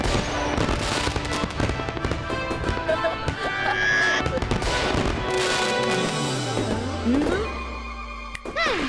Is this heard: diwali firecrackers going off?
yes